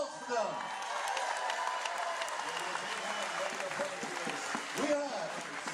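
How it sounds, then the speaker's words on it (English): Applause from an audience at an event's opening, thanking the volunteers who organised it; sustained clapping of a large crowd throughout, with voices mixed in. "Applaus for them."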